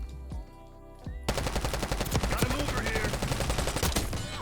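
Thompson submachine gun, the CX-9 blueprint in Black Ops 6, fires a loud sustained automatic burst after a brief quieter opening, rapid shots packed tightly together.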